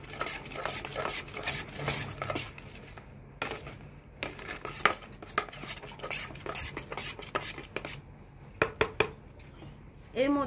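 Paan sherbet mixture with milk being stirred in a vessel, a steady run of spoon scraping and clinking against the sides, close and fairly loud, with a few sharper knocks near the end.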